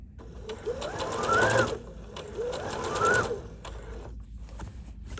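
A sewing machine stitches bias binding onto a bucket hat in two steady motorized runs, each rising in pitch as it speeds up, then stopping with a brief mechanical click, close and clear with no talking.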